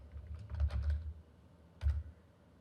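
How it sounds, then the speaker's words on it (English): Keystrokes on a computer keyboard entering a Docker command, a quick burst of clicks followed by a pause and a single firmer tap, close and fairly quiet with no speech. "we can come back to our environment here and type Docker"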